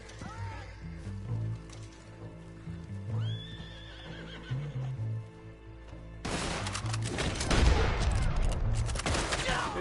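Red Dead Online horse neighing and whinnying in several close, loud cries with hoof clops, followed by a burst of rapid gunfire from in-game weapons.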